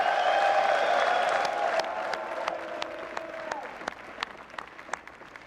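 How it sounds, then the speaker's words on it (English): Graduates at a Morehouse College commencement ceremony give a big round of applause to their families, a broad crowd ovation that gradually tapers into scattered individual claps. "Graduates, give a big round of applause to your family for everything that they've done for you"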